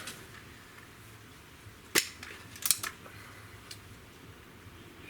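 A single crisp shot from a Crosman TR77 air rifle, a sharp snap followed by a quick faint follow-up clack, against a quiet background.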